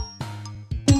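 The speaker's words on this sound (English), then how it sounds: "Now me ready to ring bell again." Bell rings twice in a Sesame Street video game, two bright separate strikes with short decays, close and clear, with no talking.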